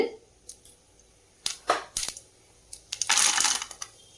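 Mustard seeds and chana dal sputter in hot oil, giving sharp scattered pops and crackles. A denser burst of sizzling comes near the end.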